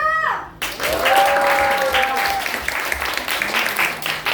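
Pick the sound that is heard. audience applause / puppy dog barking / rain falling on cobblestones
audience applause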